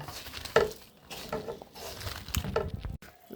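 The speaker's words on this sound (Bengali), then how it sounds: "এবার আমি তেলটা অ্যাড করে দেব দিয়ে খুব ভালোভাবে হাত দিয়ে এটা মেখে নেব" Pumpkin curry with whole spices and oil being mixed by hand, giving soft squelching pats and wet rubbing at close range, with a few sharper slaps of food against the bowl.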